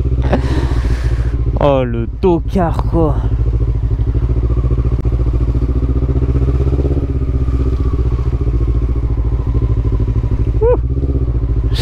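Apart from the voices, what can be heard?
motorcycle engine riding through traffic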